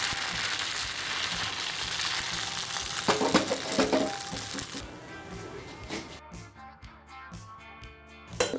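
Appam batter sizzling in a hot, oiled iron appam pan, a steady bright crackling hiss that fades and thins after a few seconds into sparse pops.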